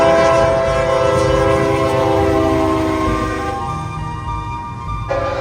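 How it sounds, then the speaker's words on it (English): A freight train rumbles past close by, its loud horn sounding in long sustained chords before cutting off near the end. "you can actually get some great horn action as well."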